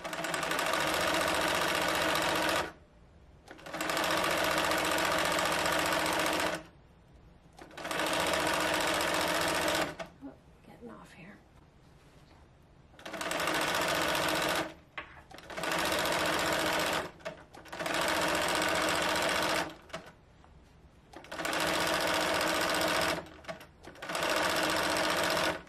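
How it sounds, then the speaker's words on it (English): Domestic sewing machine running a short zigzag stitch to attach stretched elastic onto a shirt sleeve, a loud whirring motor in repeated bursts of a few seconds each, separated by brief pauses and fabric handling. "I'm gonna pull my elastic at the same time that I'm sewing it"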